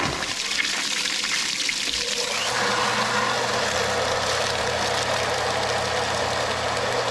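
A steady mud pump engine drone runs throughout while jet drilling a water well, with rushing, splashing water layered over it; the engine note deepens and settles after a couple of seconds.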